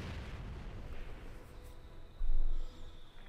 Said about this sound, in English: pushing the crew back with a furious wall of gunfire